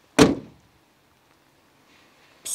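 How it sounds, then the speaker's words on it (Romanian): A VW Tiguan bonnet slams shut in a single loud, sharp thud with a quick decay, followed by near silence before a faint rustle at the end. "Cum se trântește capota?"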